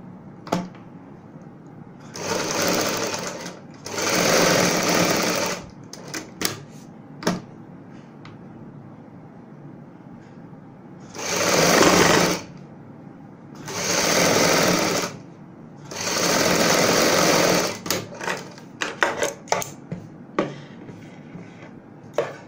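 A sewing machine joins fabric patchwork onto a kurti front, running in five loud bursts of rapid stitching separated by quiet gaps with scattered clicks and handling knocks.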